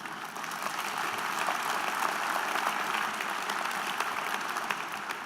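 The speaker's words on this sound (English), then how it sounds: "Please, another round of applause for our family." An audience at the Mayor's Arts Awards 2018 ceremony claps in steady applause, a dense, even patter of many hands sustained for several seconds.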